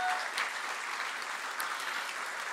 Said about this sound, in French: Déjà lui donner une bonne main d'applaudissements.